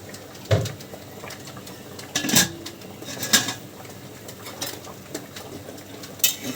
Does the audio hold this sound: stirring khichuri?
yes